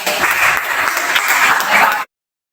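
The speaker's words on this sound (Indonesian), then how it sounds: "Tepuk tangan kelompok 3." Applause for a presenting group during a classroom project-based learning session in Indonesia, a dense, steady burst of clapping lasting about two seconds before cutting off abruptly.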